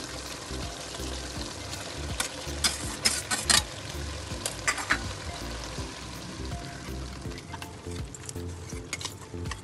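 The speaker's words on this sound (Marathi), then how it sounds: "मी तांदूळ घालते." Rice is tipped into a pot of mutton biryani on the stove, giving soft pouring, sizzling and scraping stirs with light metal clinks from a spoon against the pan, close and fairly quiet, with no talk.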